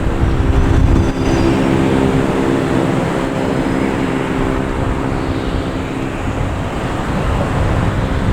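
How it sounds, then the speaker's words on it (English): An Etihad Boeing 787 airliner at Boston Logan Airport gives a steady, loud, broad jet roar that holds evenly from start to finish with no talk over it. "Etihad 787."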